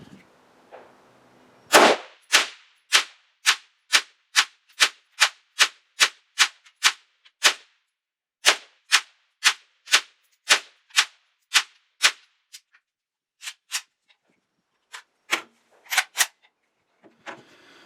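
A PAP M90 rifle firing rapidly outdoors: about two dozen loud, sharp cracks in quick, fairly even strings with short pauses between, and a few scattered final shots.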